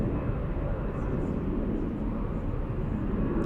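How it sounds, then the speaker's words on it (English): Lufthansa Airbus A321neo jet on an intersection takeoff at Munich, a dense, steady low engine roar filling the clip, loud and close, with no clear talk. "intersection takeoff for the Lufthansa A321neo"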